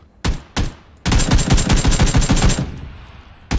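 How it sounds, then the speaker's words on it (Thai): Automatic rifle fire in PUBG: two single shots, then a long rapid burst of closely spaced rounds, a pause, and one more shot at the end, loud and close with no voices. "ผมยิงนะ ยิงเลยยิงเลย"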